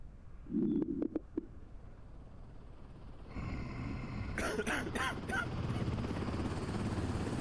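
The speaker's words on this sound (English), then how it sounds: "What the fuck, helicopter?" A helicopter in the zombie game Quarantine Zone drones in as a steady low rotor rumble, rising partway through and holding fairly loud to the end, after a few brief thumps near the start.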